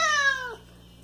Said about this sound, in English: I wonder what she was meowing so wildly about